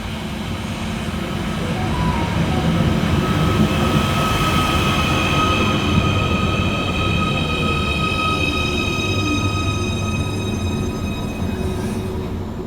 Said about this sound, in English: Next arrival into the station is 777-142, with the 1032 Merseyrail electric service from Liverpool Central through to Headbolt Lane.